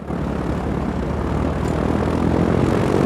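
A propeller airplane engine drones loud and steady throughout, a continuous close roar with no talk over it.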